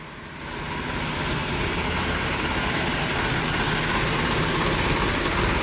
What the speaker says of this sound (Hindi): दोस्तों ट्रैक्टर आ लिया है